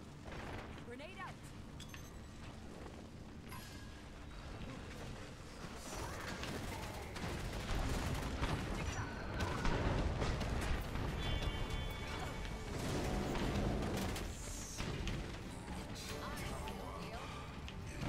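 Explosion and gunfire in a multiplayer shooter match, dense and loud throughout with booming blasts, crashes and rapid shots, voices and chatter mixed in beneath.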